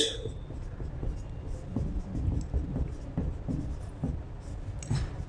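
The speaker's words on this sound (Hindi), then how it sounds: "यहां मैं सबसे पहले नोट में लिखता हूं कि प्रोटॉन का विशिष्ट आवेश" Marker or chalk strokes on a board during a Hindi chemistry lecture, a steady series of short scratchy taps and swipes at close range, with faint room noise behind.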